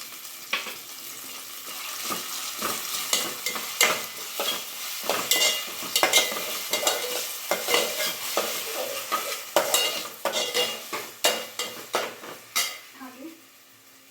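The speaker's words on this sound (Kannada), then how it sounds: "ಶುಂಠಿ ಬೆಳ್ಳುಳ್ಳಿ ಪೇಸ್ಟನ್ನು ಹಾಕ್ಕೊತಿದ್ದೀನಿ" Ginger garlic paste frying in a pan for a paneer aloo masala, stirred with sharp repeated metal scrapes and clatter over a crackling sizzle, close and fairly loud, with a voice talking faintly at moments.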